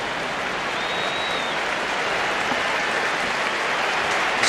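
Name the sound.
stadium crowd applause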